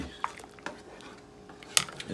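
A few sharp metallic clinks of a utensil knocking against a pot while stirring frozen raw shrimp in boiling water, spaced irregularly over a soft background hiss.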